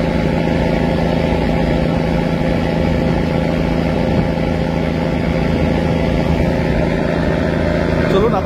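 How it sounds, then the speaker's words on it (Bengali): A single-engine river passenger launch, travelling from Dhaka to Haturia, drones loudly and steadily throughout, a dense, continuous engine rumble with no pauses. "চলুন আপনাদের আমাদের লঞ্চের ইঞ্জিন থ্রাস্টটা দেখাই কিরকম। এক ইঞ্জিন লঞ্চের ইঞ্জিন থ্রাস্ট।"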